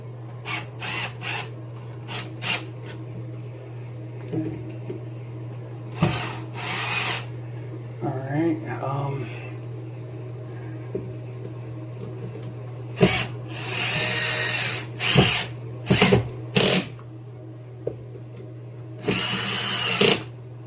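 A power drill drives a screw through a floating shelf bracket into a wall stud in short bursts and longer runs over a steady low hum, with brief quiet talk between.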